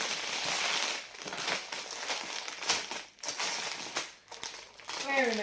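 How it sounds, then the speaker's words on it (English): Plastic drill bags for diamond art rustle and crinkle in a steady, close-up stream of crackly noise, with brief pauses and a few sharper crunches near the end. "I know some people don't like the rustling of bags, drill bags."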